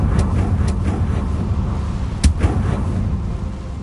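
A Confringo fire spell in Hogwarts Legacy lets out a single sharp blast midway through, surrounded by fainter muffled thumps over a constant low rumble.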